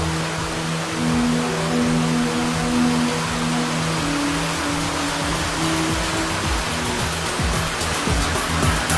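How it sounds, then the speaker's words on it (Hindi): A powerful waterfall in the wild gives a loud, unbroken roar of rushing water that holds steady from start to finish, with a faint low hum beneath it. "ये झरना दिखने में खूबसूरत लग सकता है, लेकिन ये बहुत ही ताकतवर है।"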